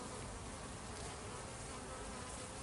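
Honey bees gathering ivy pollen at the hive, a dense, continuous buzzing swarm close by, steady and loud throughout with no voices.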